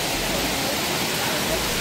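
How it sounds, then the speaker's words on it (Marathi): Waterfall at Ghonsari village in Konkan, a steady broadband roar of falling water that holds constant and loud throughout, with no breaks or other sounds standing out. "धबधब्याच्या जवळ पोचलो आहे"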